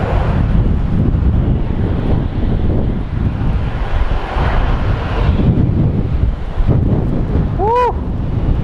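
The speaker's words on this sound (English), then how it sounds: "Windy, windy, windy today." Strong wind roars and buffets the microphone continuously at Phoenix Sky Harbor Airport, a dense, gusty rush that drowns out everything else.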